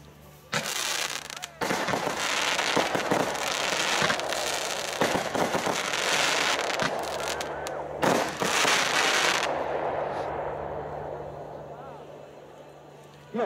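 A Fanstyle fan battery of 20 mm calibre fires during a New Year's Eve fireworks preview in Gardelegen, loosing a dense, rapid run of sharp close shots for several seconds, then trailing off into fading crackles.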